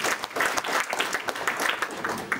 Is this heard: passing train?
no